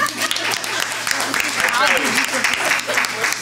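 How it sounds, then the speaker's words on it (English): A TEDx community audience breaks into sustained applause for a student speaker, steady close clapping with voices mixed in throughout. "give a round of applause to him"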